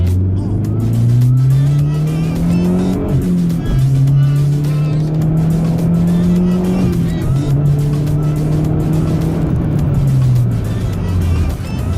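A Mazdaspeed 3 hot hatch pulls hard, its engine note climbing loudly through repeated rising sweeps with brief dips at gear changes, heard from inside the car under road and wind noise.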